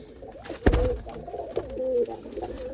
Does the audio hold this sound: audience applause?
no